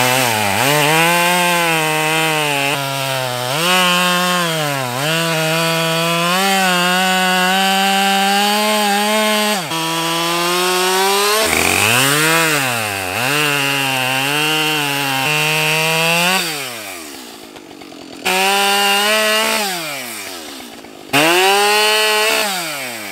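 Husqvarna 572 XP chainsaw cutting wood, loud and close, its engine note rising and falling steadily as it bogs into cuts and revs free between them, with a couple of brief drops near the end.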